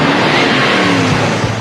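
A car drives up, its engine rumbling and revving close by in a steady, loud burst with no voices over it.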